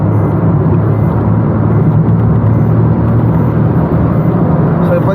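Stage 1+ tuned Maruti Suzuki Baleno RS engine pulling up toward 4000 rpm while driving, a steady loud droning hum with road noise throughout, no rise-and-fall blips.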